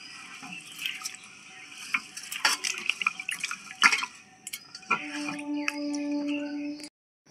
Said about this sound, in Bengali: দু তিনবার চালটা একটু ভালো করে ধুয়ে নেব।